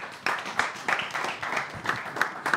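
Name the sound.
audience applause for election candidates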